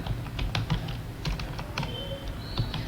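Keys clatter on a computer keyboard as data is entered into Tally accounting software, a quick irregular run of close clicks over a low steady hum.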